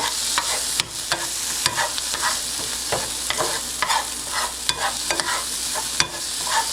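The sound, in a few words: stirring salt and pepper into frying breakfast food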